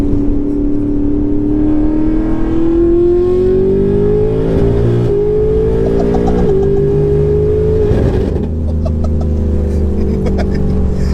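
A 1356 bhp BMW M5 accelerates hard on a street, its engine note climbing steadily in pitch with a sharp gear change near the end, loud and close from inside the car.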